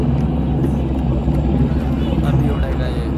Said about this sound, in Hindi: हेलीकॉप्टर उड़ रहे हैं